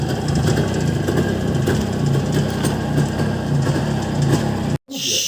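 A CZ 350 motorcycle engine, started after nearly 20 years stored in a garage, runs loud and close with a busy, uneven rattling beat, then cuts out abruptly near the end.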